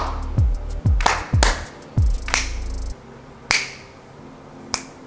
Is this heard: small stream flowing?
no